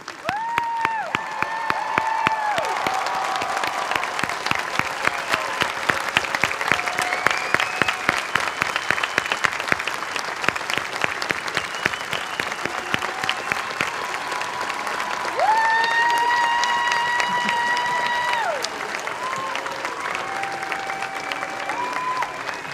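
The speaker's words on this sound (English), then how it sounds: "Please remain standing so that your families and friends can applaud." Families and friends applaud graduates at a college degree conferment ceremony, a large crowd's steady dense clapping sustained for over twenty seconds in a hall, with a few faint voices and brief cheers mixed in.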